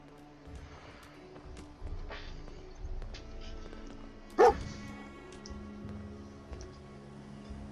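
Dogmeat, the German shepherd companion in Fallout 4, gives a single sharp bark midway through quiet, murmuring game ambience.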